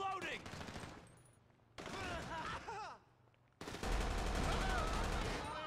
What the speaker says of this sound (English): Who is shooting the damn hostages?